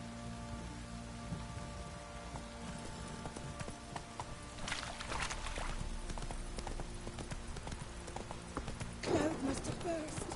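Horse hooves clip-clop in a steady rhythm while riding in The Witcher 3 video game, faint and mixed with rain patter, with a brief whinny near the end.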